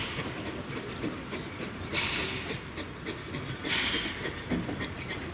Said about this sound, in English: The train for Le Crotoy branch is on the left and it's hardly moving